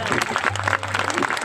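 An audience at a Marathi public speech breaks into brief, dense applause, with a speaker's voice heard over the clapping.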